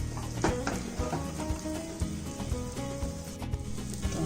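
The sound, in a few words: Spanish omelette frying and being swirled in a pan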